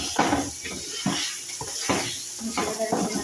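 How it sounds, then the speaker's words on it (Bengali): A spoon stirs spice masala in a hot pan, giving repeated scraping and clinking strokes over a soft sizzle while a person talks. "এরপরে ভালো করে একটু নাড়াচাড়া করে নেবেন মশলাটা।"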